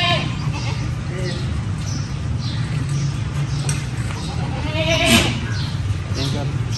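A dairy goat at a livestock breeder's yard gives a short bleat amid steady outdoor background noise and murmuring voices.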